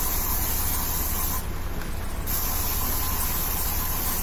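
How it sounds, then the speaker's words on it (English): Air freshener sprays in an apartment as a loud, steady hiss of aerosol that runs continuously, briefly dipping in the middle before resuming. "that hissing sound you hear is just me spraying the apartment with like air freshener"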